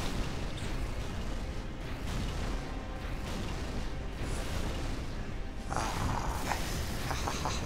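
Explosions in the video game Halo 2 boom and crackle, with a continuous barrage of loud, rumbling bursts that sharpens into a brighter blast near the end.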